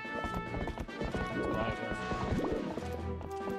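Horse hooves in The Legend of Zelda: Twilight Princess, a quick clip-clop rhythm mixed with game music and effects, while someone talks over it.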